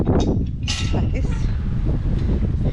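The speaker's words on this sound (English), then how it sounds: "Quite windy today." Outdoors on a walk through Blackawton village, wind buffets the microphone with a constant, loud, low rumble that swells and dips throughout.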